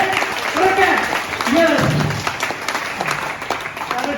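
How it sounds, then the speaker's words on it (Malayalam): Audience applause at an Onam celebration at a rehabilitation centre, a steady wash of clapping from a gathered crowd that runs the whole stretch, with voices and chatter mixed in underneath. "നമുക്ക് ഒരു വലിയ കയ്യടിയോടുകൂടി സ്വീകരിക്കാം"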